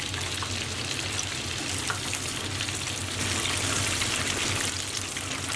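Spicy chicken fries deep-fry in a basket of hot oil, a loud, dense, continuous bubbling sizzle with constant fine crackle, close and steady throughout, without any talk.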